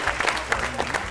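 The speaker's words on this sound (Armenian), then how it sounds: "Ժամանակը սպառվեց, բայց ծափահարությունները թող ընչեն" Studio audience on a game show breaks into brief, lively clapping for about a second, dense and close with a few voices mixed in.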